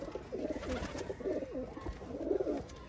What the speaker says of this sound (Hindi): ये जुनेद भाई वाला कबूतर ये आप देख रहे हैं